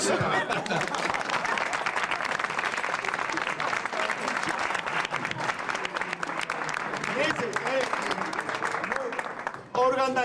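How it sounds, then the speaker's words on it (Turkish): Sustained audience applause at a stand-up comedy show, dense clapping from a crowd for about ten seconds, fading abruptly near the end. "bir şey alkışlayalım"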